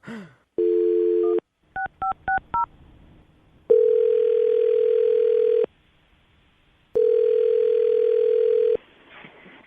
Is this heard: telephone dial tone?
yes